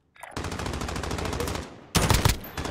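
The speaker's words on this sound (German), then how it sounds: "Mach dich bereit gleich zu schießen." Rapid automatic gunfire in the video game Call of Duty Warzone: a steady, fast stream of shots for about a second and a half, then a louder, closer burst that cuts off abruptly, with no voices.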